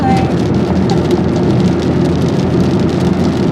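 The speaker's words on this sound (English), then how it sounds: "I told you the rain was gonna come. Y'all hear it now?" Steady, heavy rain pours down continuously, a dense hiss with no talking over it.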